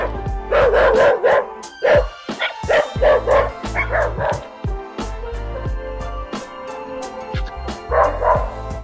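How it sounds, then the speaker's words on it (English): A dog barks repeatedly up close on a street in Oaxaca de Juárez, Mexico, loud sharp yaps coming in quick clusters with brief pauses, some higher yips mixed in. "when he started barking I was a little surprised"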